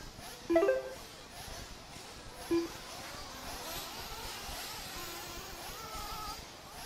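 RC race cars run on a track at an RC raceway championship qualifier, a distant, continuous whining buzz of small motors with two brief louder passes early on, under faint commentary.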